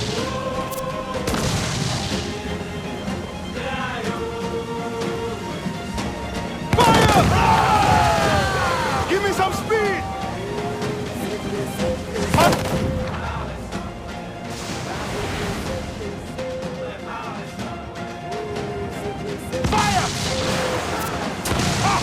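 Broadside of ship cannons booming in Assassin's Creed 4 Black Flag naval combat, heavy repeated blasts amid battle noise with shouted orders over a dense, loud mix.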